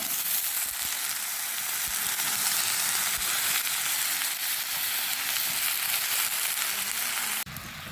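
Flat beans hiss and crackle as they fry in hot oil with whole cumin seeds, a steady dense sizzle that stays loud throughout, then drops sharply in level near the end.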